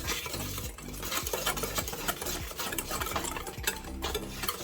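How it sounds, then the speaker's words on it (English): A whisk beats shrimp burger batter in a bowl with steady, busy scraping and clinking. The motion is continuous and fairly quiet, and no one speaks. "I'm gonna take my whisk, mix it all together"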